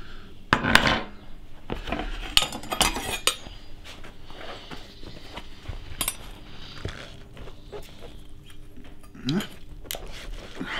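Metal rotisserie skewer pulled from a spit-roasted beef joint (tafelspitz) at a grill, with scattered sharp metallic clinks, scrapes and rubbing knocks, close and irregular, no talking.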